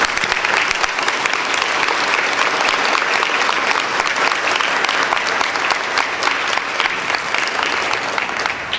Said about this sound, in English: you need to give her a round of applause